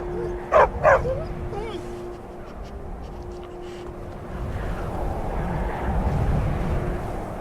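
Dog in Skyrim giving two quick loud barks near the start, then whimpering softly under a steady hum and rushing ambient noise.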